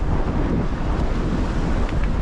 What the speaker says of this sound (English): you can see by that flag just how windy it is